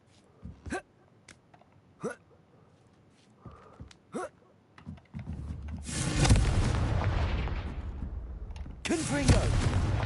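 Confringo spell blasts go off in Hogwarts Legacy: two loud, roaring explosions, one long and one shorter, follow scattered sharp gasps and small clicks in a quiet setting.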